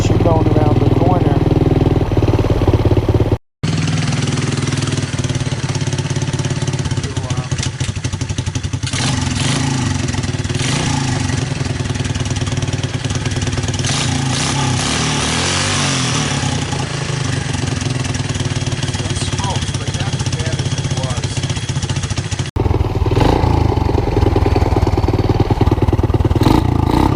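A Honda TRX200SX ATV engine runs steadily with a rough, clattering mid-pitched drone, holding near idle with mild swells in revs throughout, loud and close, with a brief cut early on.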